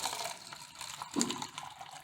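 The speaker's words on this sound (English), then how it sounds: "now you can confirm that the water is coming out of the hot side of the cooler" Water trickles from the hot-water side of a water cooler, a faint, soft running stream with a small gurgle partway through, quiet and close.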